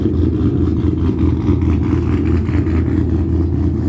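A car engine runs with a steady low rumble that holds an even level throughout, close and loud with no talk over it.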